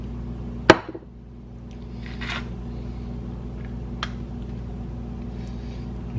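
A single sharp knock as a piece of wood taps a Shock Therapy toe link support part into place on a Can-Am X3 in a garage, followed by quieter clicks and a faint steady background hum.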